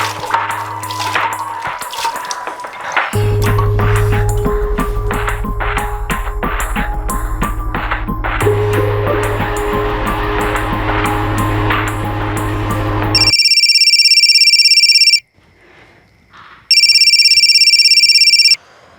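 A telephone rings unanswered, several repeated electronic ring bursts with a gap between them, loud and close, following a stretch of dramatic crime-show music.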